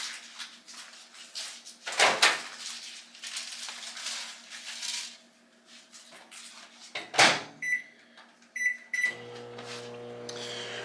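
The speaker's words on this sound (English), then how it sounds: "we're gonna put it in the microwave for 30 seconds or a minute" A microwave oven hums steadily, then beeps several times as it finishes, with a door clunking open and closed among light kitchen clatter.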